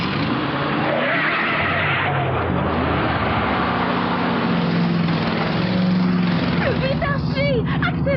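A cartoon car's engine roars and strains at full throttle during a race along a winding mountain road, loud and continuous with rising pitch, while voices shout over it.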